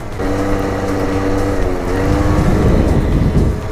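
A Yamaha Slider 70 scooter engine hums steadily while riding on a straight path, a close, loud, continuous buzz under rushing wind, with the pitch rising slightly near the end.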